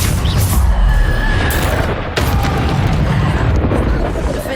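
In Hogwarts Legacy, a Depulso spell is cast, producing a loud, rumbling burst of force. The booming roar is followed by dense game noise that stays heavy and sustained throughout.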